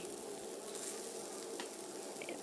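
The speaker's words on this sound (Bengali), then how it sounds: "সবুজ হলুদ আর লাল ক্যাপসিকাম রেখেছি সেটা এখানে দুই থেকে তিন মিনিট হালকা ভেজে নেব" Green, yellow and red capsicum fry lightly in a pan with a steady, close hissing sizzle and a few faint crackles. No voices.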